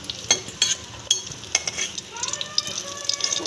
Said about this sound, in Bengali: এবার আমি পটলগুলো একটু ভেজে নেব